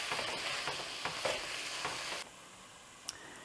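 Drained diced tomatoes being stirred into a pot of French green lentil soup make a soft sizzle and scraping strokes that drop off abruptly partway through, followed by a single light clink.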